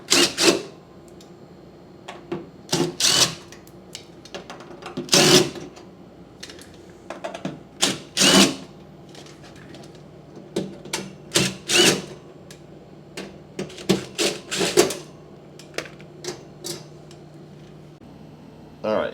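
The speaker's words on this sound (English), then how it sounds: "Let me take that bottom panel off and check it out. Okay, got my impact driver." A cordless impact driver works screws out of the bottom panel of a salvaged Amana refrigerator, firing in repeated short rattling bursts with metallic clinks and handling noise between them, close by.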